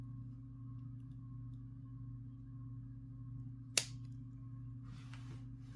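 Scissors snip once through a necklace cord, giving a single sharp close click against a quiet electrical hum, with faint rustling after.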